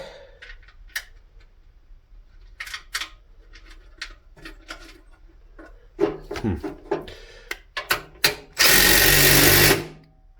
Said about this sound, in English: That should not be ratcheting already.